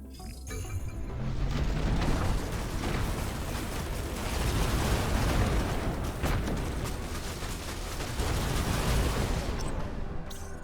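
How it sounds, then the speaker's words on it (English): Missiles burst in a sustained, dense barrage of rumbling explosions in the mech combat game Phantom Brigade, loud and continuous for the whole stretch with overlapping booms. "Let's watch the missiles exploding."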